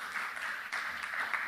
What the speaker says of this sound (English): how about a big round of applause to Stephen Shapiro, moderator extraordinaire